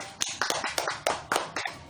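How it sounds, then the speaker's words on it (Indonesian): A small group clapping at a training session: sparse, uneven claps, about ten sharp hits spread over two seconds, fairly close, with no talking. "minta tolong ya, berikan tepuk tangan dulu untuk Ibu Erna dan Ibu Wati."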